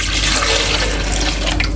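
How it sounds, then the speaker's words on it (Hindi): A glass of water is poured into a bowl for thandai, producing a loud, close, continuous gushing splash that lasts about two seconds with no talking. "1 गिलास मैंने इसमें पानी का डाल दिया।"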